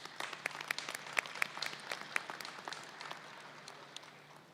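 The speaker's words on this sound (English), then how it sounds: "Graduates, let's give your family members a round of applause." Small, sparse commencement audience clapping for graduates' families, individual claps standing out as distinct sharp hits over a quiet room, fairly faint and thinning out.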